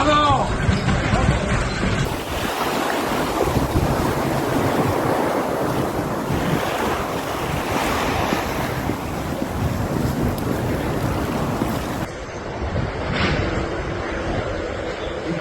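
Strong gusting storm wind roars steadily over churning, rough water at a seafront marina in Murcia, Spain, with loud buffeting noise on the microphone throughout and a brief lull near the end.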